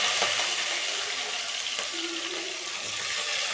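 Shallots and green chilies fry in oil for a prawn gravy, giving a loud, steady hiss of sizzling close by, with occasional light stirring clicks and no speech.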